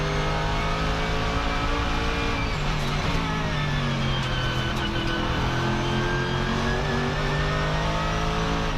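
Mercedes GT3 race car at the Nürburgring, heard from onboard as a loud continuous engine drone that rises and falls through gear changes and revs, with no talking.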